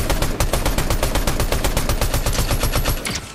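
Rapid automatic gunfire in Fortnite, a steady close, loud stream of evenly spaced shots lasting a few seconds with no talking.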